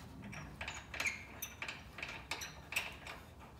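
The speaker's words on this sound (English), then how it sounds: "I should get my fancy Harbor Freight ratcheting opening box in." A Harbor Freight ratcheting box-end wrench works on the power steering of a GM 4106 Sheppard. It gives a series of quiet, close clicking ratchet strokes at a fairly regular rhythm, with no talk.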